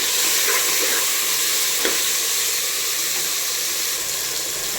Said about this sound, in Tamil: கட் பண்ணி வச்ச 3 தக்காளி சேர்த்துக்கலாம். அத்தையும் நல்லா வதக்கி விடலாம்.